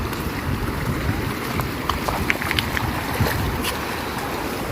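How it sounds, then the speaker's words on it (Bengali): Cold water of a waterfall stream rushing over rocks at Bichanakandi in Sylhet, a constant broadband wash with scattered splashes and gurgles rising briefly above it, moderately close and steady. "দেখছো পানির কত সুন্দর আওয়াজ"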